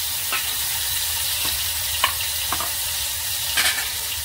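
Two finely chopped tomatoes hiss and sizzle in plenty of hot oil, a constant loud frying crackle broken by a few soft spoon scrapes as they are stirred.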